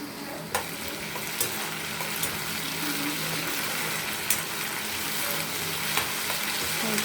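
Garlic paste sizzling in a pan with onions, raisins and peanuts, a steady close frying crackle with a few sharp spatula clicks against the pan, no voices.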